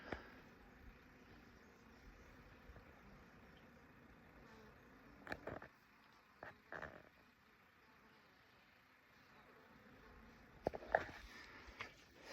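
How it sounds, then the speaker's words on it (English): Faint buzzing bees around a flowering tree drift in and out, a few louder passes near the start, middle and end against a quiet outdoor background on a hike. "this tree here, there's a lot of flowers on it, and you can hear the bees"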